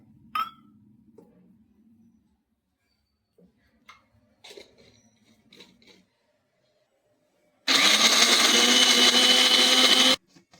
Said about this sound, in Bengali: আমি একটু মশলাটা পেস্ট করে নিই।